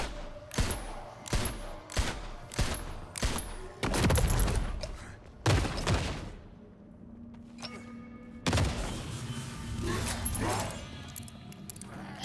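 Gunfire in the video game Nightingale, a quick series of loud, punchy shots in bursts followed by a pause and then more heavy blasts, with some speech mixed in.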